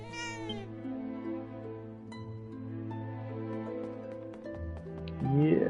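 A cat meows in Dragon Quest VII, a short high call at the start riding over a steady bed of game music, with a brighter burst near the end.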